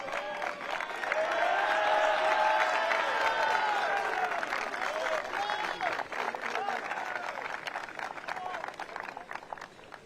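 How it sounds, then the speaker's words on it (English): Crowd applause and cheering for the best goalkeeper award at an MLS NEXT GA Cup U16 championship ceremony, sustained clapping with whoops that slowly thins out. "Let's give him one more round of applause."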